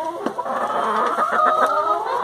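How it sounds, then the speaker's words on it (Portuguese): Hen clucking from a nest in a chicken coop, a steady run of close, soft clucks and murmurs that continue without break, with no speech. "Não tem mais ovos, tem galinha aqui no ninho."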